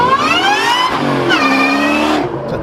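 Supercharged Ford Mustang Cobra engine revving hard nearby, loud rising and falling blips with a whining blower tone, two strong surges before it eases off.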